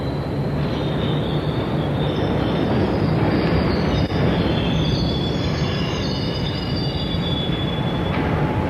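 A train pulls into a station, a steady heavy rumble of railcars with high wheel squeal rising and falling throughout, loud and close with no voices.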